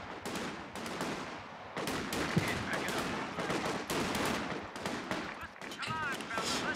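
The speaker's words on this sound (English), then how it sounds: "Heavy machine gun team ready for orders." Sustained machine gun bursts and scattered rifle shots in a Company of Heroes 2 3v3 battle with US infantry, dense rapid firing running loud through the whole stretch with battlefield noise and occasional voices underneath.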